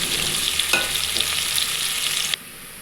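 Chopped onions and curry leaves frying in a hot pan, a loud continuous close sizzle with a few stirring clicks, cutting off abruptly near the end, no voices.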